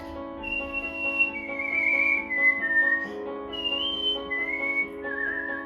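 Someone whistles a slow melody in clear, sliding notes over a soft sustained musical backing.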